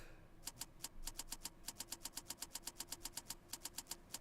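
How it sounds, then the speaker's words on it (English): Rapid, evenly spaced clicks from a computer mouse being moved, rattling like someone typing a message; a steady run of sharp, close ticks over a low background hum, no voices. "Depending on if you move your mouse, it sounds like someone typing a message."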